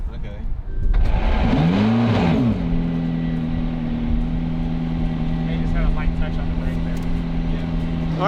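McLaren P1 GTR race car engine firing up with a sharp rev that swells and drops, then settling into a loud, steady idle drone close by, with people talking over it.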